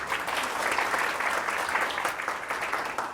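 Sustained audience applause at a community college student event, steady and full for the whole stretch, with a voice faintly audible beneath the clapping.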